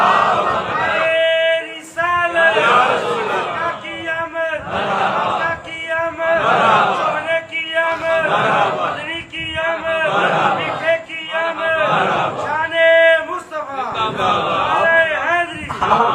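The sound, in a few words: crowd shouting slogans at a religious gathering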